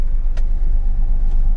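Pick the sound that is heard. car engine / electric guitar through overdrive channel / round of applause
car engine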